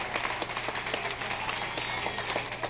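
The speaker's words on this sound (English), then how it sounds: "Give him a big round of applause" A crowd claps steadily in continuous applause, dense and sustained throughout, with no voices standing out.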